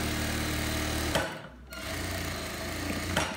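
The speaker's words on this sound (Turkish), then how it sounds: "Aynı şekilde üstte de bir ince spor dikiş çekiyorum." Sewing machine running steadily while topstitching a thin decorative seam along fabric for palazzo trousers, with a brief pause partway through and an even mechanical whir up close, no talking.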